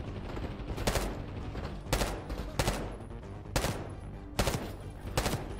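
Bursts of gunfire from the Call of Duty Black Ops 6 video game on PS5 ring out in repeated volleys about every second, loud and close, with ongoing combat din underneath.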